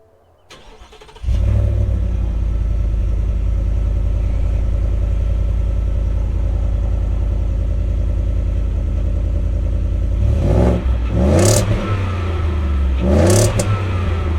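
A 2023 Ford F-150 with the 5.0 Coyote V8 and a Speedys Equipment muffler cranks and fires, then settles into a loud, steady rumble close by before two sharp revs near the end.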